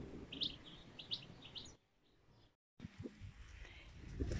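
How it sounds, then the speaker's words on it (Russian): A small bird chirps in a garage with quick, high, bright calls in short bursts, then pauses while faint rustling and low bumps continue close by. "Птичка улетела, птичка упорхнула."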